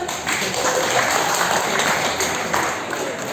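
Applause from a parish gathering audience, a continuous dense clatter of clapping hands, fairly loud and sustained, with no clear talk over it.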